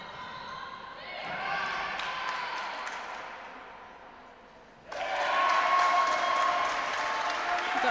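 Crowd noise in an indoor arena during an under-17 netball championship match, a swelling roar of cheering and applause with ball bounces and squeaks, a surge after a brief lull.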